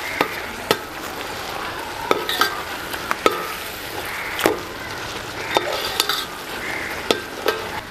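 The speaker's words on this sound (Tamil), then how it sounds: "பிளாக் பெப்பர் சேர்த்துக்கிறேன்" Prawn gravy sizzling in a pan while black pepper is stirred in, a steady frying hiss broken by sharp clicks of a spoon against the pan at irregular intervals, close and clear.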